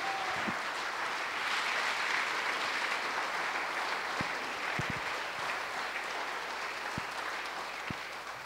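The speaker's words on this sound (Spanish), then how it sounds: "Dale un fuerte aplauso al Señor ahí" A church congregation applauds together in a steady, sustained roar of clapping, with a few sharp knocks and thumps scattered through the dense patter.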